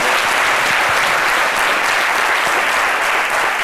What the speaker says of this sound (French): Merci, on les applaudit très fort.